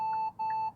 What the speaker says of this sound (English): This car just beeps at random shit.